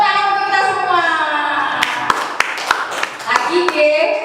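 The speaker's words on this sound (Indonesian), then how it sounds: "Tepuk tangan untuk kita semua." A group in a school training session claps; a voice speaks at first, then a run of sharp, irregular hand claps follows, close and fairly loud, with talk continuing beneath them.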